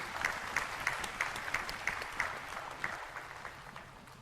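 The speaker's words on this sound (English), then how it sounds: "Can we have a big round of applause, please?" Audience applause at an anniversary retreat gathering at Shanti Sarovar, a steady patter of clapping hands that rises briefly, then thins and fades over a few seconds.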